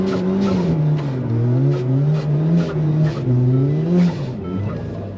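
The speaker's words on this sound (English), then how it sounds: "We did a burnout." A car does a burnout at a drag strip, its engine droning loud and steady with wavering pitch while the tires spin, heard from inside the car.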